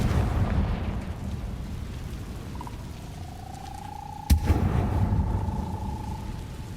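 Confringo blasting spell in Hogwarts Legacy, a sharp single burst near the middle with a brief crackling impact over steady background rumble and a sustained magical tone.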